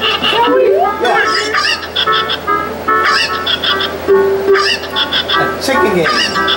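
Cuccos from Zelda: Ocarina of Time squawk and cluck in loud, repeated honking bursts with bright electronic game tones, close and continuous, while players talk over them.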